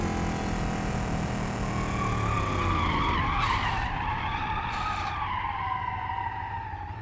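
A race car's front splitter scrapes the ground in BeamNG.Drive, a loud continuous grinding skid over steady engine roar, with two brief harsh bursts in the middle before the sound slowly fades.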